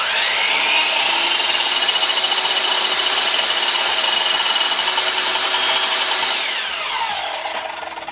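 A power saw cuts a lumber wall board to length, running as a loud, steady high-pitched whine for about seven seconds before winding down at the end. No one speaks.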